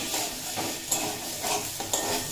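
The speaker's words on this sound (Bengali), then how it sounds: "আর সাথে এড করে দেব ডাঁটাগুলো। দিয়ে আবারও 1 মিনিট মতো ভেজে নেব।" Vegetable stalks fry in a pan with a constant sizzle and a few close scraping stirs at a steady pace, no voices.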